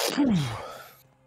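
A single sneeze bursts out close by, a sharp intake flowing into a falling, drawn-out vocal blast that fades away within a second.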